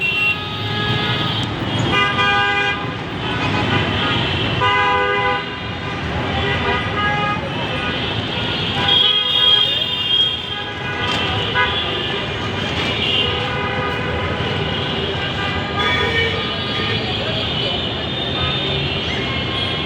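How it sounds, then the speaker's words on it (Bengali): A Dhaka street jammed with traffic near the High Court and Secretariat, with car horns honking repeatedly and overlapping over a constant rumble of engines, close and loud throughout. "দেখতে পারি বেশিরভাগ রাস্তাঘাটই যানজট এবং এই ধরনের যানজট লেগেই থাকে"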